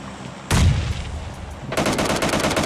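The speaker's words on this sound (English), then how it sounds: "So plenty of rounds coming in from squad number 10 here." Heavy gunfire in a battle royale video game, a dense burst of shots followed by rapid automatic fire that keeps going, loud and close with no voices.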